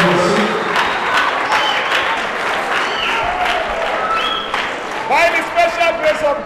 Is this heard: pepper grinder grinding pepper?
no